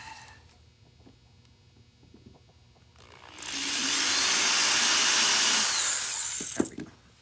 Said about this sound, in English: I need to drill a little deeper.